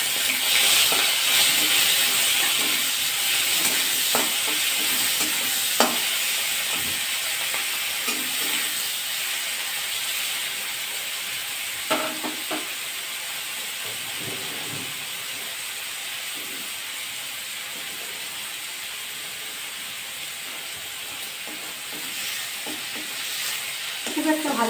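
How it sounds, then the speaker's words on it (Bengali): Prawns fry in oil in a pan with a continuous bright hiss and sizzle, strongest at the start and easing slightly, broken by a few faint clicks of a stirring utensil. "চিংড়ি মাছগুলো ভাজা করে নেব।"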